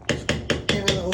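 A spoon taps sour cream into a pan for beef stroganoff, making six sharp, evenly spaced knocks in quick succession, close and fairly loud with no talking.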